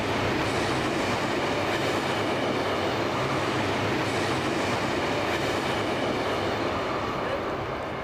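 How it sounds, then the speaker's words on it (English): A train thunders past close by, a loud continuous roar of wheels and rails that stays dense and unbroken throughout. "The noise of the train, for example, bother you?"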